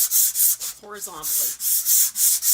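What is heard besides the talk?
sanding a painted wooden surface by hand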